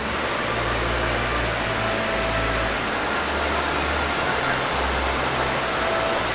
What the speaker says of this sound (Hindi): ये देखो लोध वाटरफॉल